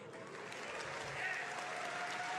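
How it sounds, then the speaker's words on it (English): Scattered applause from a modest crowd at a Civilization VI CPL Premier tournament broadcast, a steady clapping texture of many hands building slightly and lasting the whole moment, with no voices over it. "A smattering of applause for the Normans."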